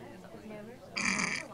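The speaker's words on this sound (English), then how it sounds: "The beer burp." A burp after drinking beer, a short guttural belch close to the microphone near the end, following a stretch of quiet talk.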